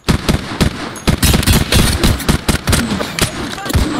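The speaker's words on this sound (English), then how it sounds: "we got guys trying to shoot me through this cavern" Rapid gunfire in the video game Apex Legends, dense bursts of loud, close shots firing in quick succession almost without pause, with automatic weapon fire throughout.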